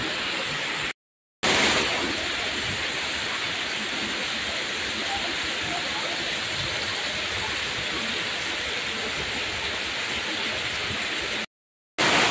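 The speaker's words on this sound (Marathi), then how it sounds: "तुफान पाऊस चालू आहे." Heavy rain pours down in a Konkan village in a dense, constant roar of water, continuous and close apart from two short breaks in the sound.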